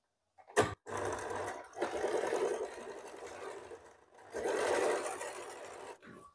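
A sewing machine stitches a blouse seam in rapid runs. A brief burst comes first, then two longer stretches of whirring, needle-driven chatter with a short pause between them, close and clear with no talking.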